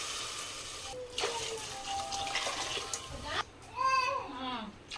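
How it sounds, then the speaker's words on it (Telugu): Water is poured into a pot over rinsed rice for cooking, splashing and gurgling in uneven bursts, close by, with a voice speaking faintly at times. "ఇప్పుడు ఇంకా ఎసరు కోసం అయితే వాటర్ వేసేస్తున్నాము"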